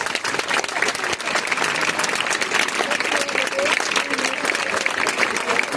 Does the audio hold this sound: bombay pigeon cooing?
no